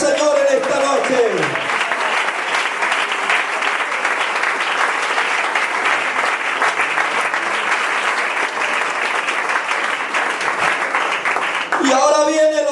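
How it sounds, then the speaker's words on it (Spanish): Church congregation applauding at an evening service, a sustained dense wash of clapping filling about ten seconds, with a voice speaking briefly at the start and end. "¿Cuánto le dan un aplauso al Señor en esta noche?"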